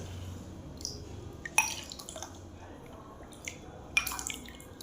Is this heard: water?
yes